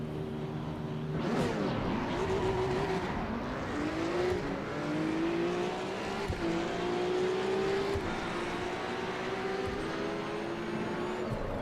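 A race car in Assetto Corsa EVO howls at full throttle, its engine pitch climbing through repeated upshifts with brief drops between gears, loud and close with no talking.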